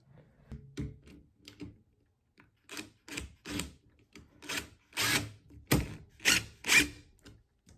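A 1/4 inch socket wrench backs screws out of a K-9 III Force dog grooming dryer, giving repeated close ratcheting clicks and creaks in short bursts that grow louder and denser toward the end.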